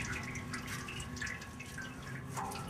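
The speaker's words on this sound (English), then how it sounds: "Look at all that goo coming out." Transmission fluid drips steadily from a car's transmission pan, a faint run of small splats and trickles under a constant background hiss, with no voices.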